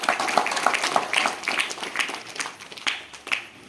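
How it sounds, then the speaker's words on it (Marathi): Crowd applause at a village Republic Day gathering in Hindale: many hands clap briskly in an uneven, lively rhythm, close and fairly loud, and a voice is briefly heard beneath it. "त्यांच्यासाठी जोरदार टाळ्या झाला पाहिजे"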